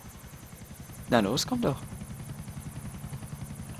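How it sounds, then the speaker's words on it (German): A helicopter in Grand Theft Auto IV gives a steady rhythmic rotor chop of quick, even pulses. Someone briefly speaks over it partway through. "Du hast ja nur den Helikopter, ne?"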